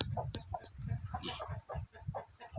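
Thai native chickens cluck and murmur close by in a continuous, busy stream of short calls, with rustling in the background.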